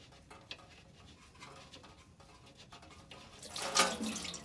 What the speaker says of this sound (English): I'm gonna be removing the coolant right now